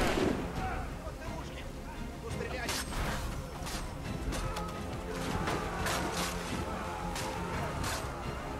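Heavy cannon fire in Assassin's Creed III, repeated booming blasts over a dense battlefield din with shouting voices and birds, steady and loud throughout.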